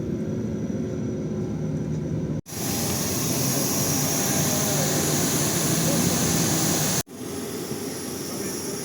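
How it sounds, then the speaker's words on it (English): An airBaltic Airbus A220-300 airliner gives a steady, loud broadband engine roar with a high whine on top, broken by two abrupt cuts, close and continuous without speech. "there she was, the airBaltic A220 that would take me up to Copenhagen"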